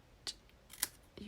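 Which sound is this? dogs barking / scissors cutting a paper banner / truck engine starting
scissors cutting a paper banner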